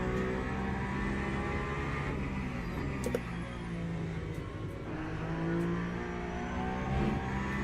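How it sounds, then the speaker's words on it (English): Race car engine in a Le Mans endurance racing video game replay, a steady loud drone with rising and falling pitch sweeps as it accelerates down a straight, continuous with no talk. "You can hear the engine becoming more silent if you deploy from 0 to max in the middle of straight."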